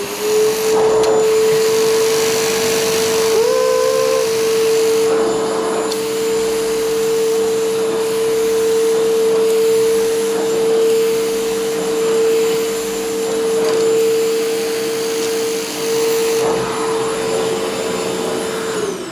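A Philips Performer Active FC8578/09 vacuum cleaner with a turbo brush runs continuously with a steady, loud whine and airy rush, with occasional bumps and rubbing as the brush moves over surfaces.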